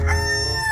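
A toy rooster gives a short electronic crow, a loud, close, sustained tone that lasts under a second with no other sound around it.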